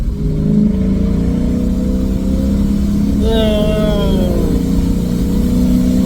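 A car fitted with an Apex'i non-resonated exhaust holds a steady, loud engine drone throughout, with a rising rev blip and downshift tones near the middle. No speech is heard.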